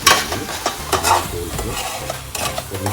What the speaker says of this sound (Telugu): మనం వేసిన ఆయిల్ తేలే వరకు కొద్ది ఫ్రై చేసుకున్నాం